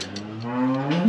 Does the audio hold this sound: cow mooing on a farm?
yes